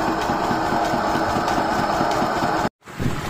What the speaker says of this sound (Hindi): इस इंजन से केवल 10 से 12 मिनट में ये टैंकर फुल हो जाता है पानी का